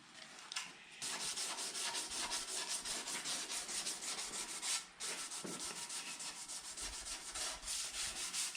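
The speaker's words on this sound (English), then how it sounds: "gently sanding." Rhythmic hand sanding with sandpaper on Lambretta scooter metal bodywork, rapid scratchy back-and-forth strokes close up, with a brief pause near the middle and no talk.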